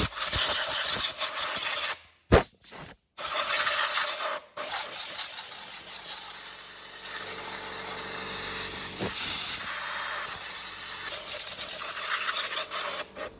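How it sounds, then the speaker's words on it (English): Compressed air blasts over a Titan 440 paint sprayer motor to clear dust, a loud continuous hiss broken by a few brief pauses, with no talk. "Just going to quickly blow some air over this just before I pull the motor in."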